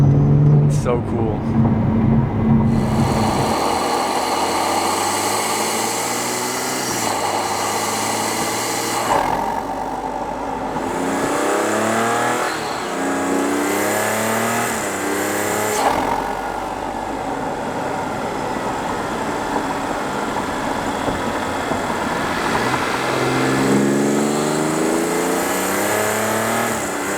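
A BMW engine fitted with an MST intake revs up and settles back to idle in repeated loud, rising and falling sweeps, with a voice talking over parts of it.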